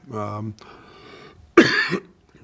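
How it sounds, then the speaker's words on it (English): A voiced sound leads into a single sharp, harsh cough, close and loud, followed by a short raspy tail. "I apologize for the cough"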